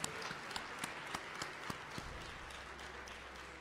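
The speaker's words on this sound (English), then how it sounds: "let's give them a round of applause" An audience at a medical school Match Day ceremony claps, a quiet, scattered patter of hands that sounds distant in a large room.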